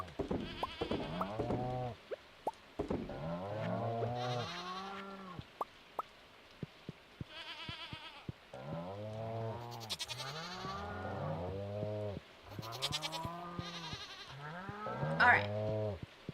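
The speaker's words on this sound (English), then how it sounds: "I still have to pet all of the cows and goats and all the pigs" Farm animals in Stardew Valley, with repeated bleating sheep and goats and some lowing cows, calls coming in clusters with short gaps, and a voice speaking briefly.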